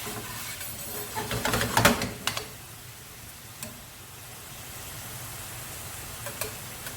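Beef mince simmering in its own released water in a pan for spaghetti Bolognese gives a soft, steady bubbling and sizzle, with a brief louder burst of stirring or spattering early on, then quiet continuous simmering.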